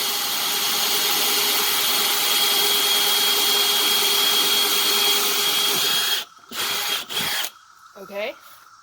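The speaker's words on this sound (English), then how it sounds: "So this oak is really hard and my drill bit is very dull." A power drill with a dull bit grinds into hard oak with a loud, sustained whine for about six seconds, followed by a few short bursts as the trigger is pulsed, and then a voice talks briefly.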